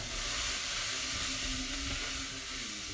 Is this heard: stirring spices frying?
yes